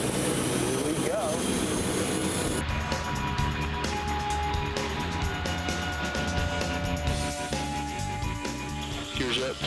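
AC-130 gunship engines in a video game, a steady loud drone of turning propellers and turbine whine building as the number two engine starts, with crew voices talking over the sound.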